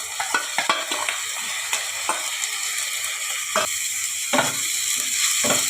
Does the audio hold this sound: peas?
yes